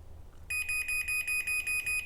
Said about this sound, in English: There's the annoying beeping.